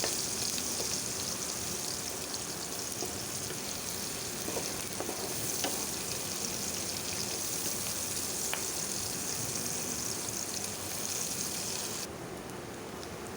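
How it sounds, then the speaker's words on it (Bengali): Chopped onions fry in hot oil, giving a steady, close sizzle with occasional stirring clinks, which eases slightly near the end. "এরপরে ওই তেলের মধ্যে দিয়ে দিলাম পেঁয়াজ কুচি। পেঁয়াজগুলোকে একটু সুন্দর করে ভেজে নিব"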